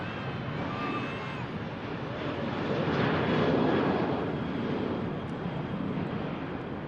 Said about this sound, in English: This Ryanair, just heading out to Dublin.